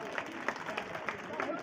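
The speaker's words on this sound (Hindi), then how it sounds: "आप तो ताली तो बजाइए" Audience clapping at a public speech, a handful of rhythmic claps at steady short intervals over a low crowd murmur, moderately close and not very loud.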